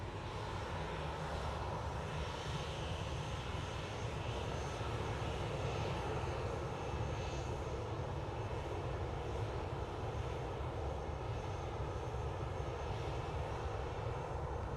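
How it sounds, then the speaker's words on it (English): A Ryanair Boeing 737-800 bound for Venice departs Manchester Airport, its engines producing a broad, continuous roar that holds steady for the whole stretch without any talk. "Going next though is Ryanair to Venice, 9HQER, flight 2898, 737-800."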